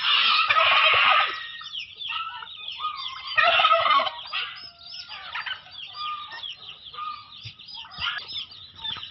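A flock of turkeys gobbling while being fed by a breeding pen outdoors, a loud burst of gobbles at the start and again midway, then a steady chorus of quieter calls, with no talking.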